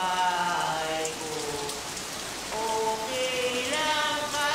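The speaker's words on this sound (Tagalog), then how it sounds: "Umuulan." Steady cartoon rain falls outside a house, a continuous even patter of drops, with a bright melodic tune playing over it in the background.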